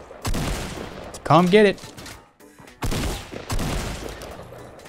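Rapid bursts of gunfire in Fortnite crackle in several loud, close volleys separated by short pauses, with someone talking between them.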